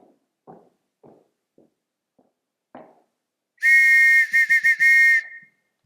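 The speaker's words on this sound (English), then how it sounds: "Everyone in this house answers to a whistle." A whistle blown to summon a household, a loud, shrill blast broken into a rapid trill of short pulses, following several soft footsteps on a hard floor.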